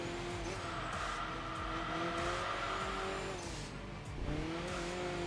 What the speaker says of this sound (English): you can hear like the turbo blow off sound, especially because this has the engine upgrades